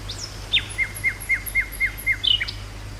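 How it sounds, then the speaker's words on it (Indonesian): Birds calling in the Angke mangrove delta: a clear series of about seven evenly spaced, sharp chirps from one nearby bird, with faint higher calls above them and a low steady hum underneath. "91 jenis burung, yakni 28 jenis burung air dan 63 jenis burung hutan yang hidup di wilayah ini"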